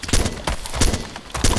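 Rapid bursts of video game gunfire crack out in quick repeated volleys, loud and close, with no talk over them.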